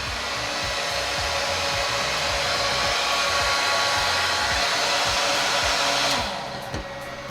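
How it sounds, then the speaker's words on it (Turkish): Steady, loud whooshing cooling-fan noise from a 6000W pure sine wave inverter runs continuously with a constant airflow hiss, easing slightly toward the end. "enerji üretmeye başladığı için fanları da çalışıyor"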